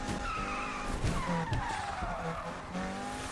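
A Lotus in the game NFS Unbound drifts under handbrake, its tires squealing and skidding in sliding pitch sweeps over a steady engine roar, close and loud.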